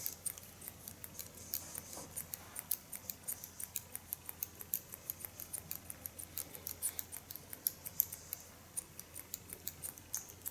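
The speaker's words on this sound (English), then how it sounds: "Create a beautiful freehand style just by jumping the hairs up with my scissor and slice cut the length." Scissors slice-cut short hair in a pixie cut, with quick, crisp snips repeating at a steady pace, close and fairly faint over a quiet room.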